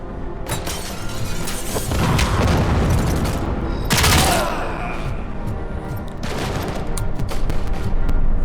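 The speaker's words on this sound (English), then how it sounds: "Who's shooting at us still?" Loud, sustained gunfire with booming impacts and shattering hits in the video game RoboCop: Rogue City, continuous and heavy for several seconds, with a few sharper bursts standing out.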